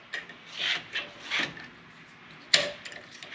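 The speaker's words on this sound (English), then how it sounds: "First, we're going to install this bushing" A bushing is fitted onto a Harley-Davidson fork slider, heard as several short, close scraping rubs followed by a single sharp metallic tap.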